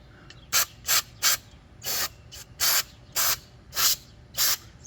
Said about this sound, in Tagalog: now is the time to clean your brake.